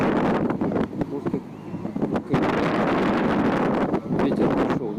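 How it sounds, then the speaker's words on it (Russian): Wind gusts outdoors beside the river at Zaryadye Park in Moscow, buffeting the microphone in a steady, loud rush that dips briefly around the middle, with faint voices mixed in. "ветер пошел, да? Ветер."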